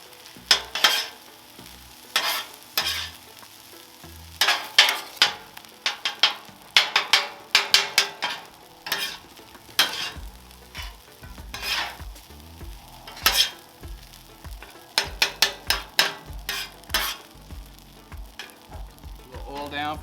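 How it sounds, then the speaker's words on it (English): Fried rice with pulled pork, butter and soy sauce being stirred and scraped on a 36-inch Blackstone griddle: sizzling under repeated sharp metal spatula clacks and scrapes in an irregular rhythm, close and fairly loud. "we'll just mix it. Get that butter mixed up."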